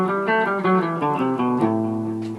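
A guitar plays an A Dorian mode scale stepwise, one clear plucked note after another at a steady moderate pace, close and ringing with no voices.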